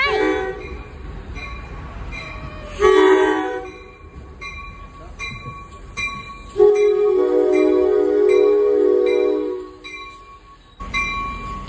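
NJ Transit train made of former MTA Metro-North cars at Dover station, New Jersey, rumbling close by with horn blasts that sound loud and sustained, the longest lasting several seconds, over steady rail noise and faint background voices.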